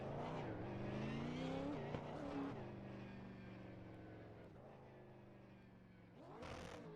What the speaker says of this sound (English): Someone's getting ready for doing burnouts.